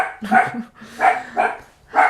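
A dog barks four times in quick, uneven bursts close by indoors, each bark sharp and fairly loud with short pauses between.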